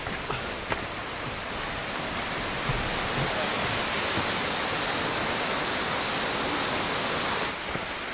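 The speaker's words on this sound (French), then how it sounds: "Super, c'était des cascades." Waterfalls along a mountain trail pour in a steady broadband rush, loud and continuous, with a brief faint knock or two near the start.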